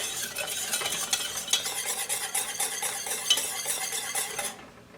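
Constant stirring of a simmering homemade cough drop syrup in a pot, a busy scraping and faint bubbling sizzle that holds steady and then cuts off abruptly near the end.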